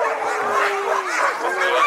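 A sled dog team waits in the Canadian snow while the wheel dog starts yelping and barking, joining a dense chorus of high, excited yips from several nearby dogs that carries on without a break.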